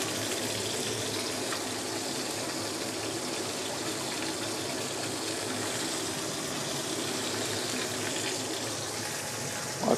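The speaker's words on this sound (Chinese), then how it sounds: "我洗一洗隻手先啊。" Kitchen tap water runs steadily while hands are washed under it, a continuous close gushing stream lasting throughout without speech.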